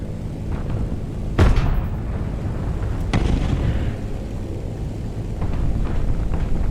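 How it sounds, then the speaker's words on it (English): A Soviet Stalin tank blowing up in wartime combat: a sharp, loud blast followed by a second strong burst a couple of seconds later, over a continuous heavy rumble of fire and engine noise. "The Stalin tank finally went up in flames."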